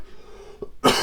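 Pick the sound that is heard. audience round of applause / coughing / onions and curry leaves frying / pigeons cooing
coughing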